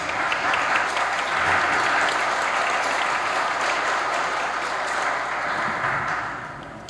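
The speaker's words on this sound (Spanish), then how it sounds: "le solicito al público asistente un fuerte aplauso para ambos" An audience at a law lecture gives a full, sustained round of clapping that stays strong for several seconds and tapers slightly at the end.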